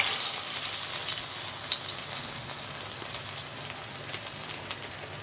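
Medu vada fry in hot oil with a steady close crackling sizzle, bright and busy at first, then easing slightly while continuing throughout without any voices.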